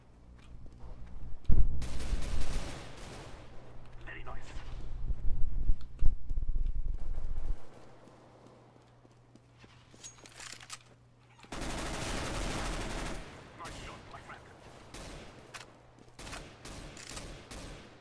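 Pistol and rifle gunfire in the shooter game CS:GO, bursts of rapid loud shots crackling up front, a pause, then another dense volley, with brief talk between.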